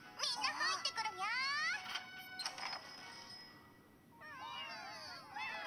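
Cartoonish cat meows from the mobile RPG Princess Connect! Re:Dive, a few wavering mewing calls in quick bursts near the start and again at the end, fairly loud over soft game background with no talk.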